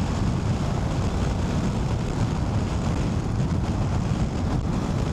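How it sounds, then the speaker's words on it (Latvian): Heavy, steady wind buffeting roars on a DJI Mic 2 microphone while a motorcycle is ridden, a loud continuous low rumble with no clear talk. "Vējš ausīs gan ir pēc traka."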